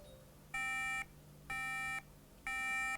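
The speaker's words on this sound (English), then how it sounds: "So it actually turns on, but it beeps." Dead MacBook beeping after being powered on: three evenly spaced electronic tones, each about half a second long, with steady gaps between them, clear and alone over a faint background hum.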